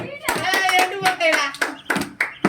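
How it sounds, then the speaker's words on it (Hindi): Several sharp hand claps ring out close by in quick irregular bursts during a playful bottle flip challenge among kids, mixed with excited chatter and calls. "हाँ ताली मारना रे"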